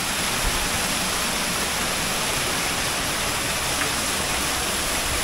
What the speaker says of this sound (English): Beautiful waterfalls